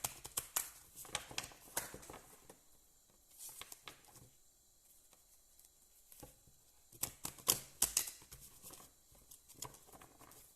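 Tarot cards are given a quick pre-shuffle, soft papery riffles and flicks coming in irregular bursts with quiet gaps between, close and faint, no voices.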